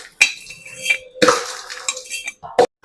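Homemade mixture snack is scooped into a storage jar, giving a few sharp clinks and scrapes of a spoon against the container with soft rustling of the dry mix between them.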